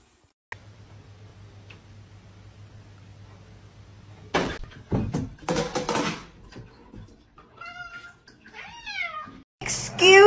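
Kittens give high, thin meows in short bursts after a low steady hum, mixed with close clattering noises and a loud burst at the end.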